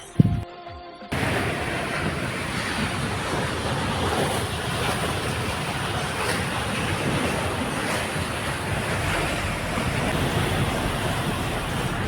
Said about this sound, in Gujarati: ડેમમાંથી કેનાલમાં પાણી આવે